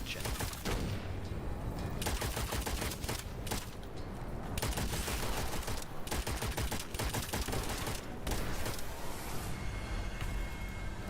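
Rapid bursts of gunfire from a gun in the souls-like shooter Witchfire, loud and dense, with repeated volleys and brief pauses across the clip over game ambience.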